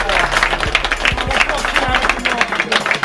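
A round of applause and scattered clapping from a small gathering at a house unveiling in Jamaica, mixed with cheering voices and chatter, a few sharp low thumps cutting through.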